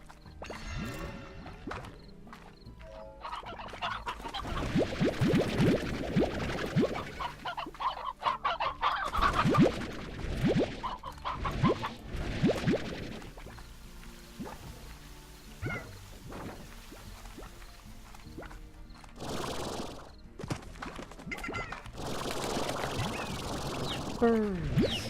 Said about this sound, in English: So many hens all the time.